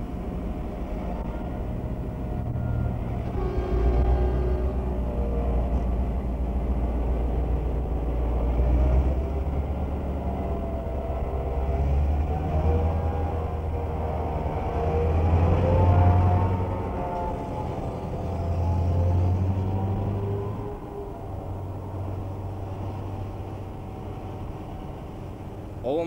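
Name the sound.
aluminium train JŽ 611 engine accelerating, moving forward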